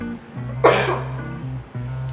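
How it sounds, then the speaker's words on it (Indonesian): A single sharp cough covered with an open hand bursts out over a steady low hum. It is brief and fairly close, with a breathy tail afterward. "menutup batuk dengan tangan terbuka"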